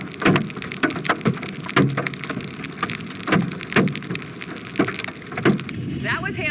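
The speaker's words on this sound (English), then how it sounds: "That was hail you were hearing," Hail and heavy rain pelt down during a Texas storm, a dense continuous patter punctuated by sharp, regular louder impacts, with faint voices in the background.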